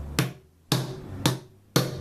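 Four sharp metallic strikes of a heavy hammer knocking a new rear bearing into place, at an even, unhurried rhythm, each ringing briefly before the next, close and loud.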